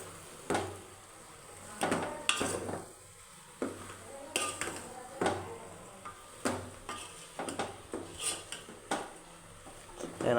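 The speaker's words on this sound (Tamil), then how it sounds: "நல்லா வதக்கிக்கங்க." Soya chunks sautéed in a pan, heard as repeated sharp clinks and scrapes of a spoon against metal at an irregular pace over a faint background hiss.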